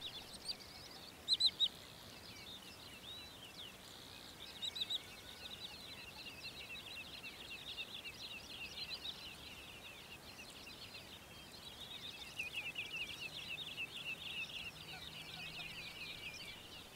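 A Broad-billed Sandpiper, a wader, calls in repeated high trilling bursts over open ground, faint and distant, with steady background hiss and a few louder call notes standing out.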